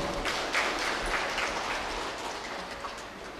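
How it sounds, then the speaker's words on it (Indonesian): Gathered crowd at a local government speech in Subang applauds, a dense steady patter of clapping that fades slightly toward the end. "Tepuk tangan dulu."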